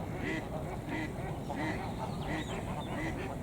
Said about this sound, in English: They make a nice picture out there, all those geese.